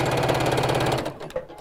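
A sewing machine stitches a box cushion cover seam, a fast steady mechanical chatter close up that stops abruptly after about a second, leaving quiet handling noises.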